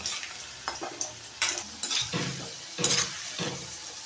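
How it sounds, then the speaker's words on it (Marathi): Potatoes, boiled in a pressure cooker for two whistles, fry in hot oil with a steady close sizzle, broken by bursts of stirring and scraping in the pan; no talking. "असे सगळे बटाटे फ्राय करून घ्यायचे अगोदर"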